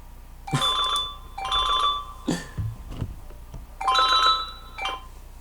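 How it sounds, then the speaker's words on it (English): A phone rings with an electronic trilling tone in repeated bursts, four or five rings with short gaps between them, loud and close with no talk over it. "Gotta take a phone call."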